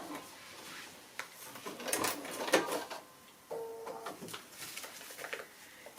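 A sewing machine joins the sections of a foundation-pieced quilt block in short bursts of close mechanical whirring and stitching, with small handling clatters in between and no talking.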